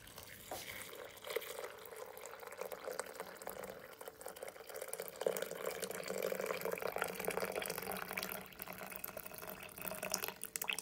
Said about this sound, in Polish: i 500 gram wody w wrzątku.